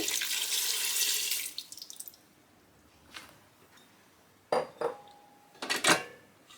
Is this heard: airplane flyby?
no